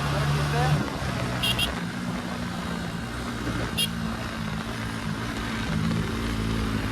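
A motorcycle accelerates on an open road with a continuous engine drone under wind noise, and someone talks over the ride.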